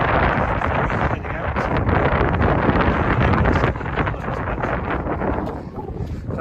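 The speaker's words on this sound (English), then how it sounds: "Also, plenty of wind, as you can probably hear." Strong wind on the sandy beach at Stone Point by an estuary, a loud continuous roar buffeting the microphone with gusty swells and no talk.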